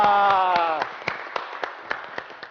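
An audience claps for a pastor on a Brazilian talk show. A brief voice with a held tone fades into a run of sharp, spaced-out claps that ring close and distinct, sparse rather than a full crowd.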